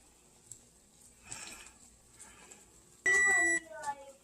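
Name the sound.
kitchen timer going off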